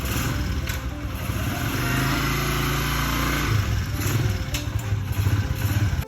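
A motorcycle engine, its carburetor just filled with fresh gasoline during a project bike build, idles steadily and close by with a rough, clattering beat for about six seconds, with no voices.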